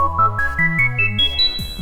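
A synthesized musical transition from a Pure Data patch, a quick rising electronic arpeggio of stepped bright tones over a pulsing low bass, climbing steadily in pitch across about two seconds.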